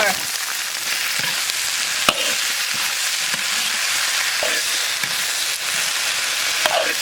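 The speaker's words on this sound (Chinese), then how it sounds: "炒香下入腌猪肉， 炒一层下入洋芋条" Cured pork and potato strips fry in lard with scallion, ginger, garlic and dried chillies, giving a dense, continuous sizzle close by. A spatula clicks and scrapes against the wok at intervals.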